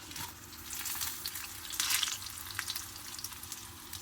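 Mustard seeds, chana dal and dried chillies frying in hot oil for tamarind rice: a steady close hiss and crackle with scattered pops from spluttering seeds, rising briefly in the middle and staying busy throughout, with no talking.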